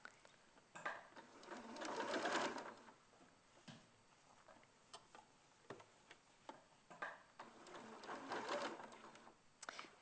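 A sewing machine stitches fabric for a toy fox, its motor running in short bursts of rapid ticking with brief pauses between, close and fairly quiet.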